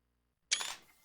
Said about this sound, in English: Let me take a photo. I've not photographed this truck yet.